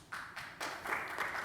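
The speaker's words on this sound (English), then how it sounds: "We clap for equations." An audience applauds at a public science lecture on Peruvian cooking, with bursts of clapping that start, pause and swell again into a steady patter at moderate volume, and no talking.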